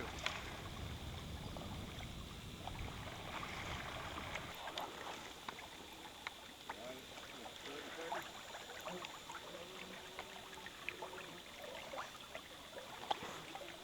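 Canoe launching from a campsite and paddling on a lake or river, soft water splashes and gurgles close by, with a low rumbling bump at first and faint voices in the background.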